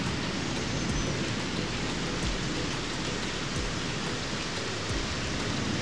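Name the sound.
rain falling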